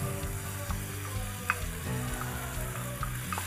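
Bell peppers frying with chicken and turmeric over lowered heat, a soft continuous sizzle with a few light pops and stirring clicks, no voices.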